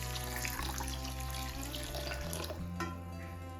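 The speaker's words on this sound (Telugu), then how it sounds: "దీంట్లోనే ఒక గ్లాస్ వాటర్ తీసుకుంటున్నాను." Water pours steadily from a tap or glass onto two cups of sugar in a pan, the start of sugar syrup for motichoor laddu; a continuous, close splashing flow that thins out toward the end.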